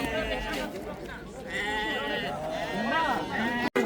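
Sheep at a livestock market bleat repeatedly, loud and close, over a murmur of voices and crowd noise.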